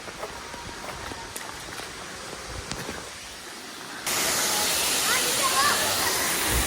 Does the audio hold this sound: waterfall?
yes